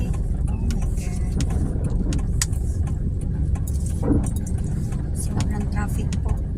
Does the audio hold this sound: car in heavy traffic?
yes